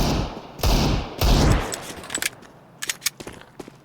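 Gunfire rings out in Counter-Strike on the Overpass map, with heavy bursts early on followed by scattered sharp single shots and short volleys, loud and close with no talk over it.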